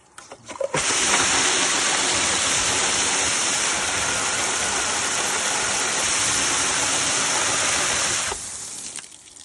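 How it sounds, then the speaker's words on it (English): A 4-inch vertical automatic screen filter flushes during backwash, a loud steady rush of spraying water that starts abruptly, holds for about eight seconds, then cuts off. "make a backwash through the Talgil application"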